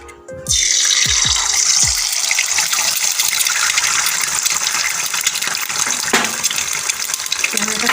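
Two eggs go into hot oil in a wok and a loud, continuous hissing sizzle starts abruptly and holds steady close by, with a brief voice at the start.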